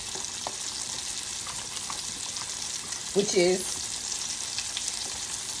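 Chicken wings for tangy buffalo wings frying in oil heated to 350 degrees, a steady close sizzle with a brief louder crackling burst midway; a voice speaks briefly.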